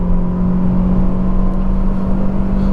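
Hyundai i20 (2022) engine droning steadily inside the cabin while driving, a constant low hum with road rumble, fairly loud and even throughout, no talking.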